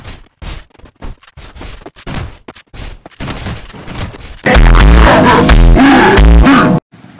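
Rapid bursts of gunfire from a one-on-one shooter video game with rare guns, starting as scattered sharp shots and then becoming a loud, dense fusillade with booming low thumps for a few seconds before cutting off.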